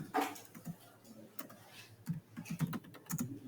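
Keys tapped on a computer keyboard to type a search into Google, light irregular clicks in short bursts, close and quiet.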